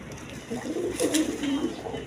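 A pair of khaki pigeons give soft, low coos in a brief cluster, faint and close, with light background hiss.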